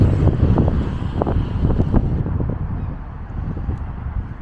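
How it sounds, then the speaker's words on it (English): Gusty wind buffets the microphone on a Blackpool shopping street, a loud continuous rumble with uneven low thumps that eases slightly toward the end. "Literally, oh, that wind, seriously."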